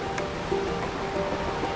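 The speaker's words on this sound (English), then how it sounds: "It really is the place to experience a waterfall from the inside." Waterfall in Guizhou, China, heard from a cave hidden behind it: a steady, dense rush of falling water, even and continuous for a brief moment, with no voices.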